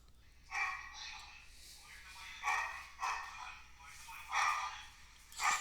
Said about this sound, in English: I know it might be hard to hear because of the dog.